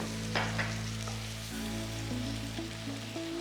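Tomatoes for shakshuka cook down in a pan with a soft, steady sizzle and a few light stirring clicks over a continuous low hum, with no voices.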